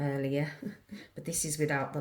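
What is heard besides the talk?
No everyday noises stand out.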